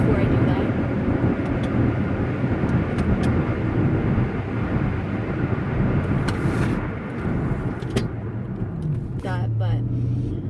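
A 2012 Porsche Cayenne S on the road, its engine and tyre rumble droning steadily and fairly loud inside the cabin, with a brief swell near the end as speed changes; a voice talks over it.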